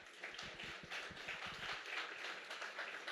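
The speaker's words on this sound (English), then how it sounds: "Let's give them a round of applause." An audience applauds panelists at a nonprofit campaign kickoff event in New York City, a faint, steady wash of many hands clapping from a distance with no break.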